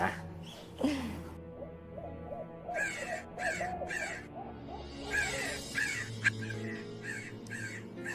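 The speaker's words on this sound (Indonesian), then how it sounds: "Ada suara burung gagak lagi, Pak." A crow caws harshly in repeated bursts, several calls in quick succession, fairly close and clear over a low background hum.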